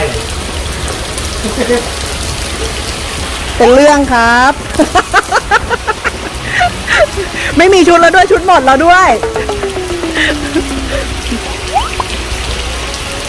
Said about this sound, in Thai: ตอนนี้ฝนตกหนักเลยนะ